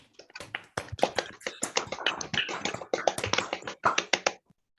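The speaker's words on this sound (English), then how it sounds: "let's give Patrick a round of applause" After an online talk, one or a few people clap close by in a short round of distinct, uneven claps, clear and dry, stopping abruptly into silence.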